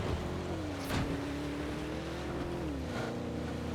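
A motorcycle in the battle-royale game PUBG drives past at moderate distance, its engine whine holding a steady pitch then dropping as it moves away, heard alone without talk.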